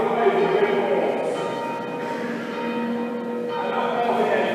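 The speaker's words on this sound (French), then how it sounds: "il y a la cloche qui se met pour essayer de trouver ma voix et des réponses" A church bell rings at a collegiate church inauguration, its sustained, resonant tones humming steadily through a few seconds, with people speaking over it.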